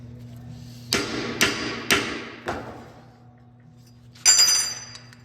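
Four hammer blows on metal parts while fabricating a scrambler motorcycle's steering and seat, sharp close strikes in an uneven rhythm over a steady low hum, followed by a brief bright metallic scrape.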